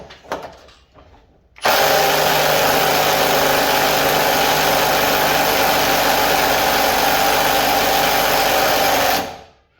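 A Milwaukee mid-torque 3/8-inch impact wrench hammers steadily at a tight nut it cannot break loose, a loud continuous rattling whine for about eight seconds that starts abruptly and stops.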